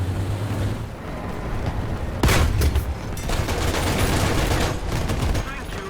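A .50 cal machine gun on an M8 LAC armoured car fires in War Thunder, with a sudden loud burst of rapid shots followed by continued clattering gunfire over a rumbling battle background.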